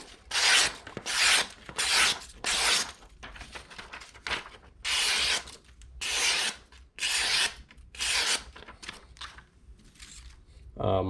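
A freshly sharpened knife slices through leather in a series of about ten short rasping strokes with brief pauses between them, close and fairly quiet, with no talk during the cuts.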